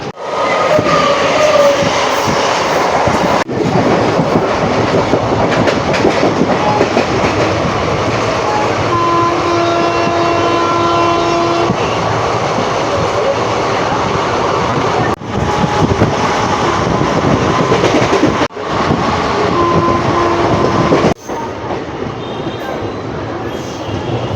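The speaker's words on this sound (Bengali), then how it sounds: "আমাদের ট্রেন ছেড়ে দিল সেই বালুরঘাটের উদ্দেশ্যে" The 13063 Balurghat Express rumbles along the tracks after leaving Bandel station, with a steady roar and rhythmic clatter, loud and continuous, with faint voices occasionally beneath.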